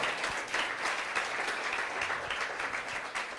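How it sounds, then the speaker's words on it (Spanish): A congregation applauds in church during a Sunday worship service, a dense steady patter of many hands clapping continuously throughout at moderate loudness. "¿Cuántos se atreven a darle un aplauso al Señor por eso?"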